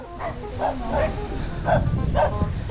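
Dogs bark repeatedly in short sharp yaps at a close distance at a house on Cresta de Gallo island, while voices chatter underneath.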